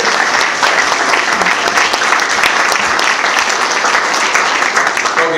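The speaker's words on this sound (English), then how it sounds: "Give Greg a big round of applause, please" Conference audience at a benefit auctioneer gathering gives a round of applause for a speaker, a dense, loud and even wash of clapping that holds steady from start to finish.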